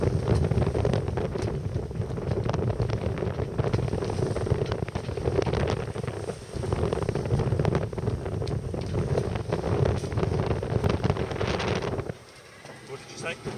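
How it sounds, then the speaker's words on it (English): Strong wind buffets the microphone with a constant roar while sailing across the Pentland Firth, steady and loud for most of the clip before dropping sharply near the end. "It was getting too windy and wet to carry on filming."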